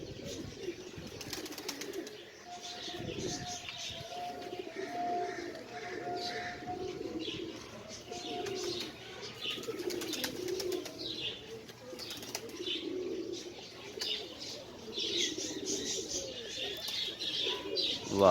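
A flock of about a hundred pigeons on a Sialkot rooftop, kept for competitive pigeon flying, coos steadily with wing flaps and faint chirps throughout, while people talk in the background.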